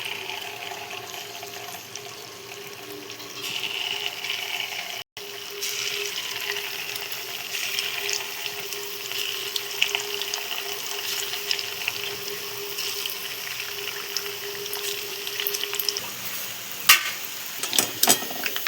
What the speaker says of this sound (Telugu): ఇప్పుడైతే పునుగులు వేసుకుంటున్నాము.